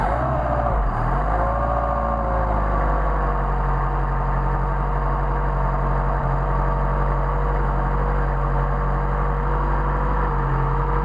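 A car engine fitted with Solex 44PHH carburetors runs at a loud, steady idle close by, with a brief dip and wobble in its note near the start before settling into an even drone.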